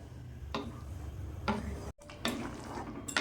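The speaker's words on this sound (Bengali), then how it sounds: "যাতে না কড়ার নিচে ধরে যায় সবসময় নাড়তে হবে।" A spoon scrapes and stirs thickening milk in a kadai over a gas flame, with a few distinct scraping strokes and clinks against the metal over a low background hiss, close and without talk.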